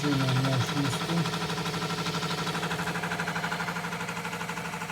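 A Chinese 8-in-1 combination machine tool runs steadily close by, a continuous mechanical hum and whir with a fine rhythmic ripple, louder at the start and then holding an even level with no talk.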